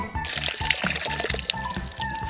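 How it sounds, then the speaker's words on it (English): Water poured onto candies set out in rainbow order for a kids' science experiment, a short, close splashing pour with a rhythmic pulsing beneath it and no speech. "Now we pour the water."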